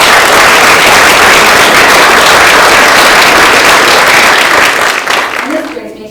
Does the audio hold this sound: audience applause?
yes